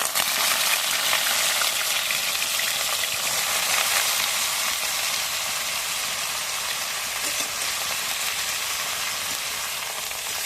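Greens hiss and sizzle loudly in hot oil with dried chili and five-spice seeds, stirred now and then, a steady close frying crackle with no voices.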